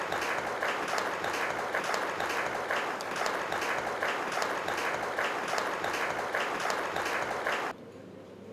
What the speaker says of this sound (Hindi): एक बार ज़ोरदार ताली बजाकर हम उनका स्वागत और अभिवादन करें।